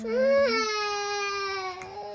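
A baby, just woken up, lets out one drawn-out, wavering wail that rises, then slides lower and trails off, loud and close.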